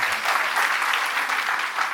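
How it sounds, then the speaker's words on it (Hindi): A seated audience claps steadily and evenly at a Holi gathering event, a dense continuous wash of applause lasting a couple of seconds with no voice above it. "ताली बजा दो बहन जी के"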